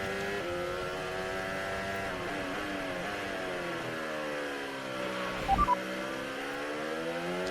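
Formula 1 cars racing at speed, Antonelli's Mercedes chasing, high-pitched engines whining with repeated rising pitch sweeps through upshifts, fairly loud and continuous, with a brief sharp electronic beep near the end.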